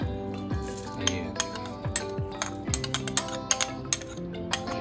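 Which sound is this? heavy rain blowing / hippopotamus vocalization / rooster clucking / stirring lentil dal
stirring lentil dal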